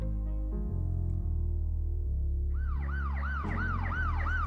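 An ambulance siren wails and yelps as the vehicle passes on a Los Angeles street, loud and continuous, shifting from a steady tone into rapid rising and falling sweeps over the low rumble of traffic.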